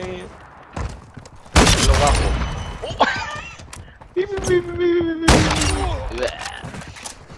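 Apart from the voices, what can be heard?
gunfire in a shooter video game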